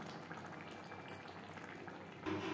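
Masoor dal with banana stem (thor) simmers in a pot with tempering over a gas flame, a close, steady bubbling and gurgling that swells slightly at the end, with no voices.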